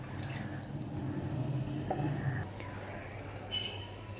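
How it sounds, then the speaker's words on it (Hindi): Fruit juice pours into a bowl for a Karachi-style fruit chaat, making a wet, splashy trickle with a few squishy drips. It sounds close and moderately loud. "जूस को एक बोल में ट्रांसफ़र कर लेंगे।"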